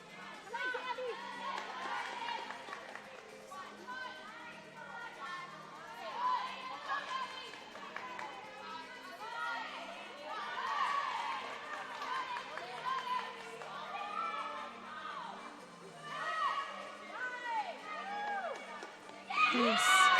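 Crowd noise at a cheerleading tournament quarter-final: a steady murmur of chatter and cheers in a large venue, rising and falling, with a commentator talking over it.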